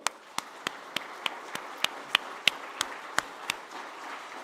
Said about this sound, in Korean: 그 주님께 영광의 박수로